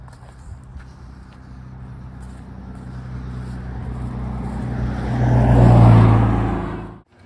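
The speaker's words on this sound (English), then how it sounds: "Okay, car." A car approaches and passes close by outdoors, a low rumble that swells steadily to a loud peak near the end before cutting off sharply.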